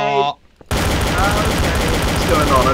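Heavy, sustained gunfire in Trouble in Terrorist Town, loud and continuous after a brief musical tone and a short gap, with rapid overlapping shots filling the clip.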